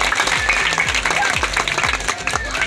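An audience at a village panchayat ceremony honouring class 10 toppers claps in a steady, rhythmic burst, and a voice speaks over the applause through the loudspeaker.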